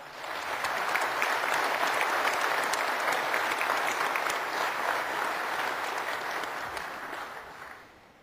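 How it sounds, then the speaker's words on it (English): Sustained, dense audience applause at a veterans' organization convention business session honoring VA employees, a loud steady wash of clapping that swells quickly, holds evenly, then tapers off near the end. "please give these exceptional VA employees a big round of applause"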